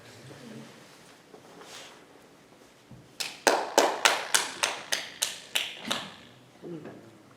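A string of about ten sharp, evenly spaced hand claps at a theatre school student show, loud and close, preceded by quieter murmuring and followed by a few softer sounds.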